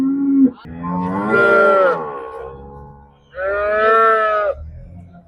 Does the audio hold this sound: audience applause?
no